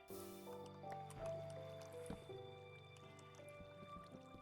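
In Minecraft Alpha v1.2.6, water poured from a bucket gives a faint, wet splash and trickle, followed by soft dripping, quiet over low music with no talking.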